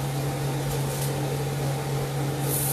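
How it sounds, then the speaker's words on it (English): Slider burgers sizzling in a hot pan with a touch of smoke, a continuous dense hiss with a steady low hum running beneath it, close and even throughout with no voices. "Alright, we got sizzling, we got a touch of smoke."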